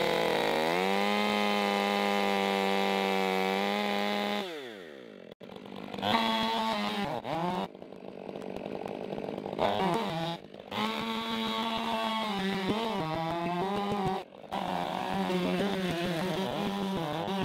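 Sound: chainsaw cutting a tree stump

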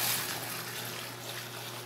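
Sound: pouring 10 litres of water for laundry

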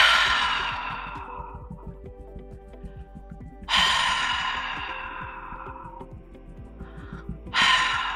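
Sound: throaty breathing exercise

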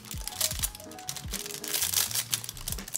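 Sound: tearing vinyl sticker sheet

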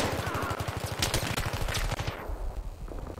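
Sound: gunfire from a bolt action sniper rifle in video game Battlefield 3

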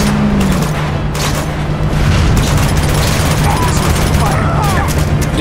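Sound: AK assault rifle gunfire in video game Uncharted 2

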